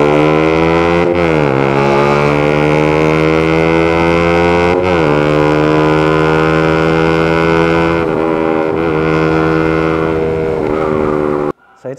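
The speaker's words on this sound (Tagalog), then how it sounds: "Tsaka yung Cardinals Racing na GP exhaust, ang sarap sa tenga ng tunog, no? Buo siya, crunchy na buo." A Yamaha Sniper 155 with a Cardinals Racing GP exhaust revs loudly and close with a strong, full exhaust note. It climbs in repeated rising pulls between brief drops, then cuts off at the end.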